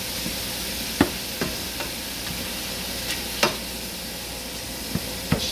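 Ground beef browns in a pan on a home stovetop, a steady low sizzle punctuated by several sharp scrapes and taps of a utensil stirring the meat.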